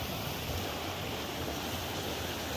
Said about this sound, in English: rushing water going down a babbling brook